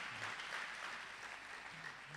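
A church congregation applauds visitors welcomed to the service, a steady, sustained clapping of many hands filling the room for a couple of seconds.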